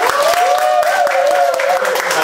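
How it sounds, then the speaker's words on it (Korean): An audience claps for a speaker at a church Lent special lecture. Scattered hand claps sound over a sustained tonal voice or hum that runs throughout. "정상희 교우께도 미리 박수 한번 주시면 좋겠습니다."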